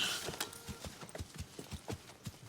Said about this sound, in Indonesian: Henry dan Wyatt pun melihat seekor kuda tanpa penunggang